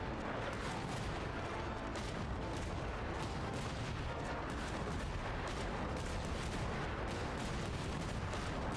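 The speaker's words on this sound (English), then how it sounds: "Alright, this one we gotta shoot at the ground. The muzzle jump on this thing is crazy." Gunfire from a weapon in the video game Genshin Impact, a dense continuous barrage of loud, rapid shots and booms filling the whole stretch with no pause and no talk.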